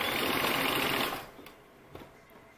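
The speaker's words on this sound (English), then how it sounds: "I'm continuing unfolding that top fold and stitching directly on that fold line" A sewing machine stitches bias binding in a fast, steady whirring run for just over a second, then stops, leaving faint clicks and near silence.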